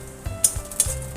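Crushed garlic and dried red chillies frying in hot oil, a soft close sizzle with light scraping and a few faint clinks of a spatula against the pan over a brief moment.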